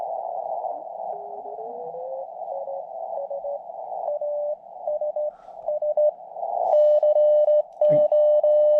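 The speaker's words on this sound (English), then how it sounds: "Here's some CW right here." CW Morse code on a ham radio receiver, compared between a Xiegu G90 and Lab599 Discovery TX-500: a steady pure beep tone keyed on and off in dots and dashes over faint band hiss, with a second brief tone near the end.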